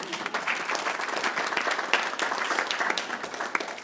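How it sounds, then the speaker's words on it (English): Audience applause at a school board of education meeting, a steady crowd clapping that fills the room for a few seconds with no speech over it. "can we just give her a round of applause?"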